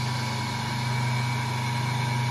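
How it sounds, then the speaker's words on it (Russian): An asynchronous three-phase electric motor running as a generator, giving a loud, steady electrical hum with a constant mechanical whine, unchanging throughout. "Двигатель работает один."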